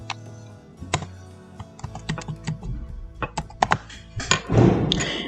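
Clicky typing on a computer keyboard, with irregular bursts of keystrokes and a few heavier thunks, close and alone with no talking.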